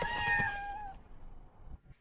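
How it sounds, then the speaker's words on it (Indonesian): A cat meows loudly and close, a drawn-out tonal cry that trails off into quiet rustling, with no talk. "Meong, meong, meong."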